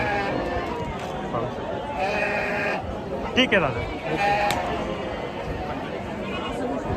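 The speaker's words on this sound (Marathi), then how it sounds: "इकडं पण आहेत बघा शिंगावाले मेंढ्या आहेत" Horned sheep bleat at a livestock market among the chatter of several people talking nearby, with a steady crowd murmur underneath.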